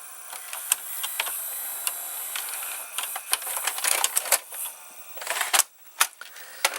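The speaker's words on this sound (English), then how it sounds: "Now I will eject the tape" The mechanism of a Toshiba M751 VCR whirs and clicks as a tape ejects, giving a string of sharp mechanical ticks, clunks and small motor rattles at close range that grows busier toward the end.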